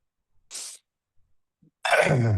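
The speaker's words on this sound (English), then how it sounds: "I was coughing." A short, sharp cough rings out, followed by a louder burst a moment later, close by with near silence between.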